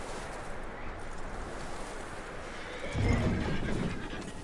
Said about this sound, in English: That looks like a decent horse. You should keep him. You need to hitch him. He's already skittish.